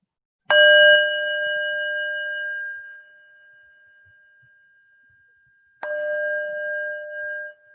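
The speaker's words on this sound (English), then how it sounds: "I'm going to ring the bell" A meditation bell is struck twice, each strike a clear, pure ringing tone that sustains and slowly fades, with several seconds of near silence between the two rings.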